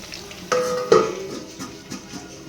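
Potatoes sizzling and frying in a pan, with a soft steady hiss and a couple of louder spitting bursts early on, close by.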